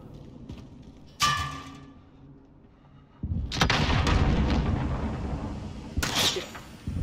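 Rocket fire during a Call of Duty Modern Warfare multiplayer match: a sharp launch crack, then a heavy booming blast with a long rumbling tail, and another sharp report near the end.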